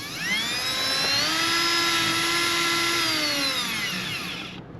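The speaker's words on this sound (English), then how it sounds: "I'm gonna run me a couple of these in." A power drill drives screws into an RV during a tankless water heater install, giving one sustained whining motor run that rises, holds for a few seconds and then winds down, loud and close with no voices.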